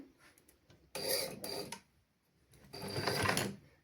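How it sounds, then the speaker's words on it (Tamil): Sewing machine stitching the seam of a lungi in a basic tailoring lesson, two loud bursts of running about a second each separated by quiet pauses, heard close up with no talk. "இதில் இந்த நேருக்கு நாங்கள் அப்படியே தைச்சு கொண்டு வர போகிறோம்"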